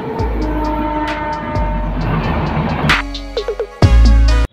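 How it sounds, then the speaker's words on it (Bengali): The Uttarbanga Express rolls in behind an electric engine from Bamanhat, a loud rumbling approach with rhythmic wheel clatter and horn blasts, ending in a burst of short honks and a heavy close roar. "বামুনহাট থেকে ইলেকট্রিক ইঞ্জিন নিয়ে কিন্তু ট্রেন আসছে"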